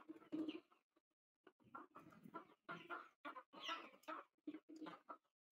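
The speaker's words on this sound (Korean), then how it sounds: "여기 위에도 지금 닭이 자기 알 훔쳐간다고 이제 시위를 하고 있는데요" A quiet African chicken clucks in choppy bursts, a string of short squawks and murmurs with brief pauses between them.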